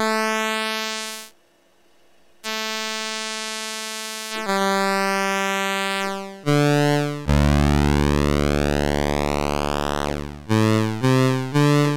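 An ARP 2600 synthesizer oscillator playing a pulse wave with its width lowered from full, giving buzzy, harmonic-rich sustained tones. The tones step between pitches and sweep in pitch, with one brief near-silent gap, loud and alone.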